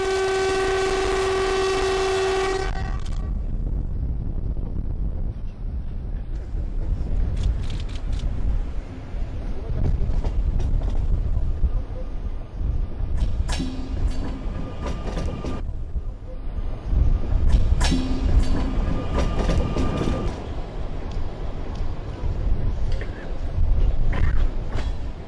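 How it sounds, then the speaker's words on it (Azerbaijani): A new electric passenger train runs on a Baku railway line, opening with a loud horn blast and followed by steady rolling rumble and rail clatter nearby. "Prezident İlham Əliyev qatarı idarə etdi."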